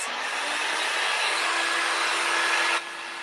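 A handheld heat dryer blows steadily on wet craft paint on a round wooden door hanger, a continuous close whoosh that holds for almost three seconds and then drops away abruptly.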